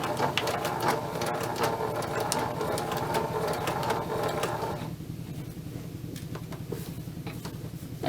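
Domestic sewing machine stitching through bulky fabric on a shirt collar, a steady loud mechanical whir for about five seconds that then stops, leaving fainter clicks and handling noise.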